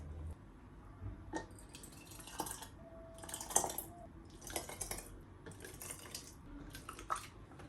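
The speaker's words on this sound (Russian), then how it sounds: "Сейчас будем разливать по банкам" Homemade adjika ladled into glass jars in a home kitchen, with soft scattered clinks, drips and scraping knocks of a ladle against glass, fairly quiet and irregular, no talking.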